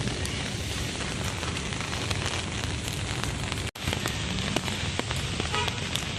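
Steady rain pours down in Baguio City, a dense, even hiss of drops striking surfaces nearby, continuous throughout with a brief sharp dropout near the middle and no voices.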